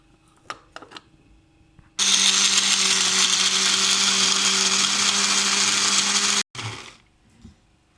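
Electric kitchen blender grinding garlic and ginger with a little water into paste, a loud steady whirring roar lasting several seconds, then abruptly cutting off, with faint handling clicks before and after.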